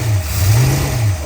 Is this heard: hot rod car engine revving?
yes